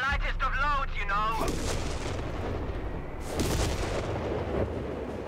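Artillery fire in the World War II strategy game Company of Heroes 3, in a desert battle, with dense booming barrages and rumbling blasts running throughout, overlapping a voiced unit callout at the start.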